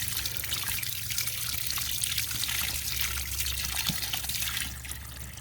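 Water trickling and splashing continuously as biochar is rinsed off fingers on a chicken-run soil project, a soft, steady running flow with small splashes.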